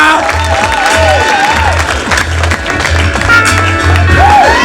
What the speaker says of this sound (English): Let's have applause for all of our contestants